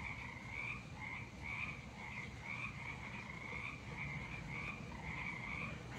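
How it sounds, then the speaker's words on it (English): Bullfrogs croak in a rhythmic outdoor chorus on a spring morning, repeating pulses steady and moderately distant over a soft background hiss, with no talking. "you hear the bullfrogs?"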